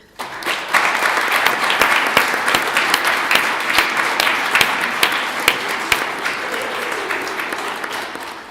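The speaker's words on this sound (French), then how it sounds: "je vous demanderai peut-être de les applaudir" Children and adults in an audience at a closing ceremony of the Liège children's and youth municipal councils applaud the facilitators, a dense sustained round of clapping from many hands that starts abruptly and holds steady before easing off.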